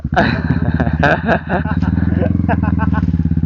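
A motorcycle with an exhaust pipe runs close and loud with a rapid, rough put-put pulse, while people talk over it.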